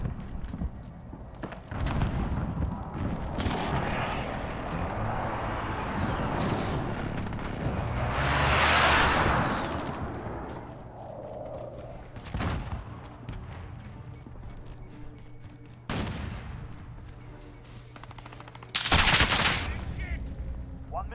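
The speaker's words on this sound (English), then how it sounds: "Allied precision airstrike incoming." Video-game precision airstrike explosions in Modern Warfare boom and rumble through a continuous din of gunfire and battle noise, with several loud blasts toward the end.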